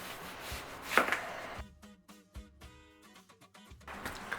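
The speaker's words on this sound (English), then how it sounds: "we're going to start with slicing our onions" Knife slicing through onions on a cutting board, a quick cluster of crisp chops followed by a run of sharper, evenly spaced cuts, close and fairly quiet with no talking.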